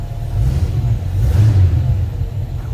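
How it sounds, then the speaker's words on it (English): A 1937 Cord 812 Beverly Sedan engine fires up from a push-button start and revs under light throttle, a loud, close, steady low rumble that swells briefly mid-clip and then settles to a throaty idle. "push button start right underneath here. Get a little gas."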